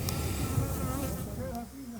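Dense, steady drone of a swarm of more than 40,000 bees buzzing inside a wall, loud and continuous throughout with no talking over it.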